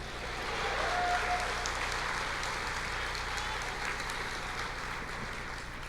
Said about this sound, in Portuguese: Aplauda ao Senhor